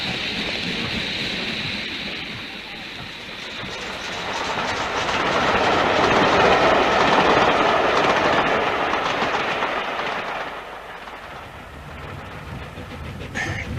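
A train rumbles along the rails, its steady clatter swelling louder as it passes close, then easing off while still running.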